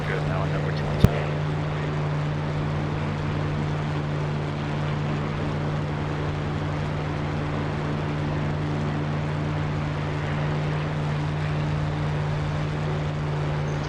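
Spitfire Mk IX propeller engine droning steadily in a DCS flight sim, a constant low hum with one sharp click near the start, and a voice talking over it.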